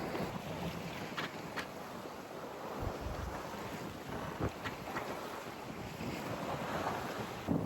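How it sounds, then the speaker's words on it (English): Constant rushing wind buffets the microphone while water washes steadily past a sailboat moving at about 6 knots on the Mediterranean, a broad, even roar with no voices. "You might hear the sound of the wind."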